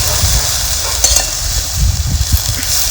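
A vegetable dish is stirred in a pan over a constant loud sizzle, with soft scraping and low thumps from the spoon repeating irregularly, close up and with no talking.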